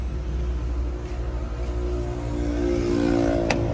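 A small diesel cargo truck with an 850 kg bed, on a used-car lot, runs with a steady low engine rumble and even idle throb, close by and alone, rising slightly near the end.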